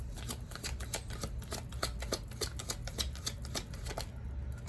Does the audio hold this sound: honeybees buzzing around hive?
no